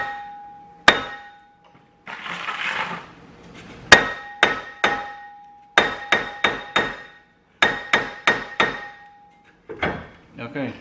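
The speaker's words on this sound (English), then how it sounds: "sometimes a couple big whacks right here and turn and take off" A hammer whacks a car's rear brake rotor to free it: loud, sharp metallic clanks with a ringing tone, some single and some in quick groups of three or four, close up, with scraping and handling sounds between them.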